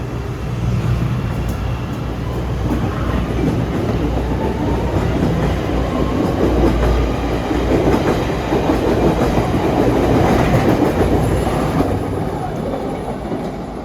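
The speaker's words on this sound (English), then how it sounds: "There comes a Howard-bound train." A Howard-bound CTA Red Line train rolls past on a rainy day, a loud, sustained rumble with rhythmic clickety-clack of wheels over rail joints building and holding for many seconds close by.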